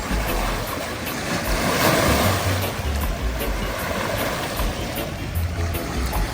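Mississippi River water sloshes and rushes in a steady broadband wash at a fishing spot, loud and continuous with low wind-like rumble and no talk.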